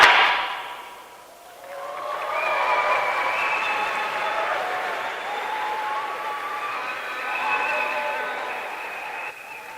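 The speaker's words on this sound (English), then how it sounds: "Put your hands together one more time for the UWI Arts Chorale." A crowd at a university games opening ceremony gives a chorale a short burst of applause that fades within a couple of seconds, followed by sustained tonal cheering or whooping voices carrying on at a moderate level.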